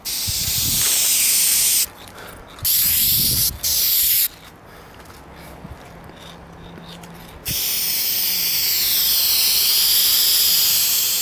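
Dupli-Color Perfect Match aerosol spray paint hissing onto a car body panel in a home shop, a long steady spray, then short bursts, a quiet stretch, and another sustained hiss close to the can.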